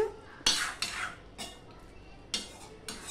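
A spoon stirs rui fish curry with potato and green beans in a pan, giving a few sharp metallic scrapes and clinks spaced irregularly across a quiet background, with no talking.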